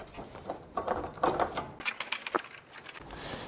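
Socket ratchet clicking in short bursts while a long bolt is tightened through the window frame of a 2020-2022 Indian Challenger motorcycle fairing, close and fairly quiet.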